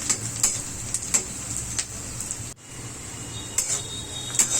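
Fenugreek leaves and fish curry with salt are stirred in a pan, a utensil scraping and tapping in irregular strokes over a faint sizzle, with a brief pause midway.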